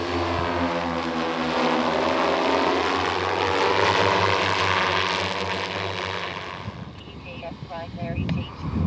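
An FPV combat drone flies toward a tank, its propellers giving a loud, steady buzzing whine that holds for several seconds before thinning out into a more broken, fluttering sound near the end.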